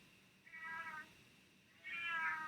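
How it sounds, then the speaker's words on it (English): A cat meows twice indoors, two drawn-out, fairly faint calls separated by a short quiet gap, against a low steady room hiss with no talking. "Do you hear my cat?"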